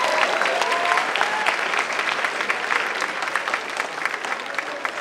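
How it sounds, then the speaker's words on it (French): Audience applause for dancers at a multicultural school show, a dense, steady wash of many hands clapping, loud and sustained throughout, with faint crowd murmur underneath. "Merci nos danseurs et nos danseuses. On les applaudit."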